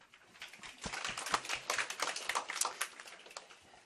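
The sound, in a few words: audience clapping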